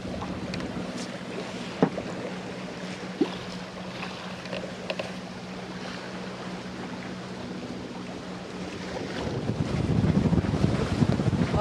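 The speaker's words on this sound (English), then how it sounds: "put the mainsail up, and we've got a little bit of wind, not a great deal" Steady wind noise buffets the microphone aboard a sailboat at sea under mainsail in light air of about 8 to 10 knots, with a low droning hum and a few sharp knocks, and the gusts grow louder and rougher toward the end.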